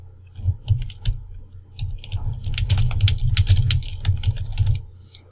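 Rapid typing on a computer keyboard, close and crisp, with irregular bursts of key clicks growing denser partway through.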